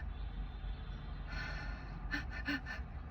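A voice imitates a newborn baby's fast breathing in its first day or two of life, with quick quiet gasping puffs near the end, a short run of rapid breaths close by.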